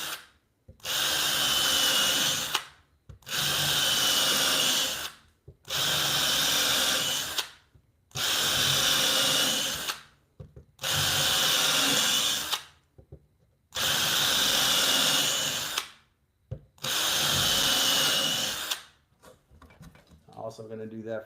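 A power drill bores a series of holes into the waist area of a wooden dovetail joint, seven loud sustained bursts of about two seconds each, separated by brief pauses.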